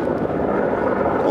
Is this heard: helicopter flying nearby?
yes